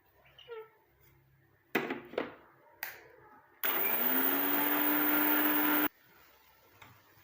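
A small mixer grinder jar whirs loudly and steadily for about two seconds as it grinds dry ingredients into a fine powder for a homemade hair remedy, preceded by a few clicks and handling knocks.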